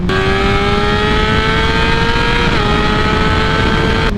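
A 2016 Honda CBR600RR with some aftermarket work, ridden at a steady high-revving pitch, its engine a loud, continuous near drone throughout with a slight dip in tone midway and no voices.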